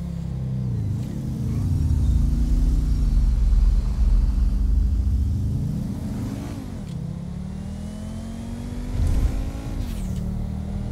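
A car engine in GTA V revs and accelerates close up, its pitch sliding up and down through gear changes in a continuous droning rumble.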